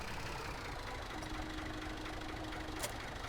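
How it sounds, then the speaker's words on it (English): A small tractor engine idles steadily at close range, a low, even rumble with a faint tonal hum and no voices over it. "it's not a Massey 698, but it's a pretty awesome little tractor"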